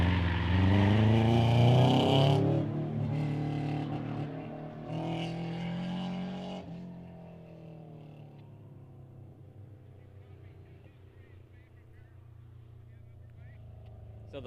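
A Volvo rally car at The Ridge Motorsports Park super special stage of the Olympus Rally 2017, its engine loud and revving hard then shifting, fading into a steady receding drone under a commentator's voice.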